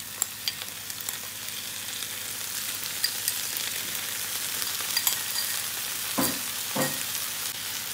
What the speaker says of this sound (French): Ensuite, je vais rajouter tout ce qui est tofu avec la sauce.